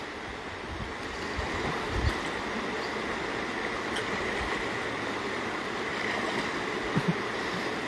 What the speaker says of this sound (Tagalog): Malakas ang ragasan ng tubig.